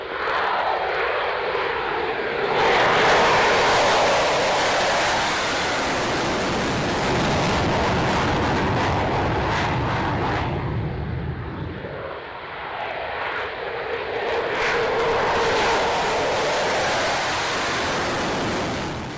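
A fixed-wing aircraft takes off from runway 27, its engine roar steady and loud, swelling and dipping as it passes, with no talk over it.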